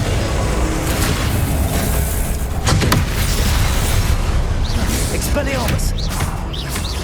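Spell blasts and magical explosions from the Hogwarts Legacy video game on PS5, with repeated booming bursts and whooshing effects over a dense, loud game soundscape, and a voice calling out spell names.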